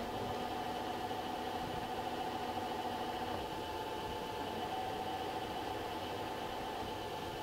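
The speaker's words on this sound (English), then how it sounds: "the spindle is just idling now" A 16-inch Blanchard rotary surface grinder runs with its spindle idling and no grinding load, giving a steady, even mechanical hum with a constant whine that holds unchanged from start to finish.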